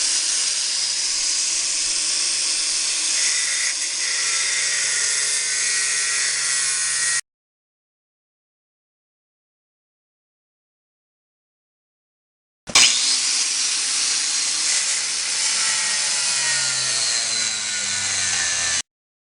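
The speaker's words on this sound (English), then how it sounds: "It took a couple of cuts to get the spring off" Power saw cutting through a corroded leaf spring, a loud, steady hissing grind for about seven seconds, then a pause in silence, then a second equally loud cut that resumes abruptly and runs to the end.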